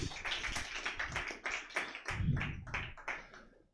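Audience applause for a stand-up comedian at a live comedy show: a dense, steady patter of many hands clapping for several seconds, moderately near and fairly loud, with no voices over it.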